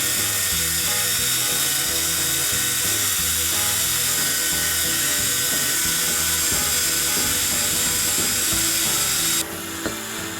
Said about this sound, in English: I will give it a little bit of wire brushing.